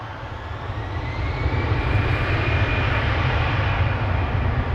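A jet airliner arriving from Bratislava at Amsterdam Schiphol Airport spools up its engines. The roar is loud and steady, builds slightly over the first seconds, then holds a broad rumble with a faint rising whine above it. No one speaks.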